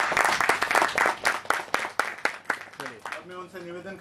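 A crowd claps loudly at a devotional gathering ahead of the Ram Lalla consecration festival, a dense burst of applause that fades within a few seconds as a voice starts speaking over it.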